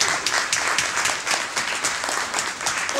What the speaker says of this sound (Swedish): Och ni, ja, vi gör en applåd.